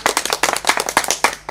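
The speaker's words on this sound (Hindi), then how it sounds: "एक बेर उनका सबके लेल जोरदार झमकौआ ताली अपने सब बजा दियो" Live audience applause for the performers of a Maithili folk theatre troupe, with dense, steady hand clapping in close rapid bursts filling the whole moment at strong volume.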